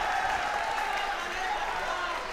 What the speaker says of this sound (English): Crowd going a little crazy for him.